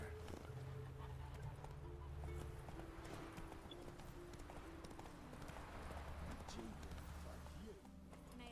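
Hooves of Geralt's horse Roach in The Witcher 3 clip-clop steadily at a walking pace, close and continuous beneath game music and speaking voices.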